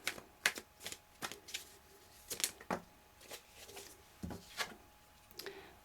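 Tarot cards being shuffled by hand, a series of quick riffling bursts and soft slaps in an irregular rhythm, close and fairly quiet with no talk.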